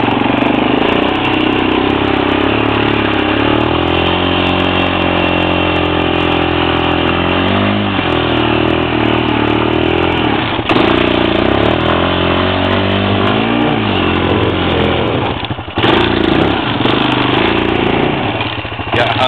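A Honda Recon 250 ATV engine drones steadily and loudly while riding downhill in snow, with a continuous close motor hum and slight shifts in pitch throughout.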